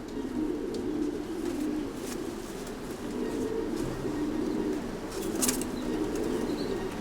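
Racing pigeons at a breeding stud coo steadily and densely, many birds overlapping in a close, continuous murmur with a few brief flutters and sharper calls.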